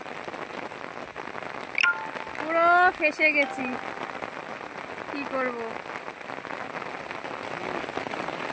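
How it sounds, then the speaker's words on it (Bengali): Steady rain falls outdoors, a dense, even patter that runs through the whole clip while people talk briefly over it. "বৃষ্টি চলে আসলো।"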